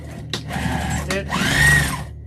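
A sewing machine back stitches through vinyl and cotton while a tote bag is being made, with a close, loud whirring motor run, brief starts and stops, and a rising mechanical hum as stitching speeds up.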